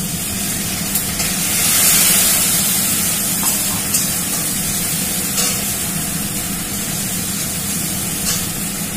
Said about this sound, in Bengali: আদা বাটা দিয়ে মশলাটা একটু কষিয়ে নিলাম